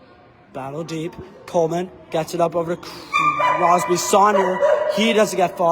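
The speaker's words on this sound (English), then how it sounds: "My apologies for that dog." A dog barks and yips repeatedly in the background, its sharp, pitched calls recurring throughout while a commentator calls an ice hockey playoff game over it.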